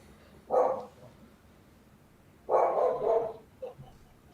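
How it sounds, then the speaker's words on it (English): A dog barks twice from some distance away, two separate muffled barks a couple of seconds apart with a faint yip after the second, and no voices in between. "whoever's dog's barking."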